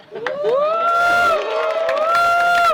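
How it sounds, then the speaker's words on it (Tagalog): A crowd at a Filipino street rap battle (Sunugan Kalye, RNSM vs Barry G) erupts in loud cheering, whoops and shouting voices, rising sharply and holding for nearly three seconds. "Para palakpak tayo, para kunwari natuwa tayo sa kanya."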